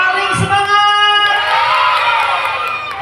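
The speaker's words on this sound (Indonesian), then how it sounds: "Tepuk tangan buat semuanya" A crowd at a khaflah khotmil Qur'an celebration cheers and whoops loudly, children's shouts mixed in, in one sustained burst of excitement.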